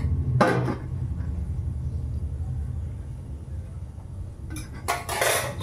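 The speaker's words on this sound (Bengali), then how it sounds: "এবারে সবজিগুলো দিয়ে দিচ্ছি।" Boiled vegetables tipped into a hot kadai seasoned with split green chilli and five-spice, giving two bursts of clattering and scraping against the pan, one early and one near the end, over a low kitchen rumble.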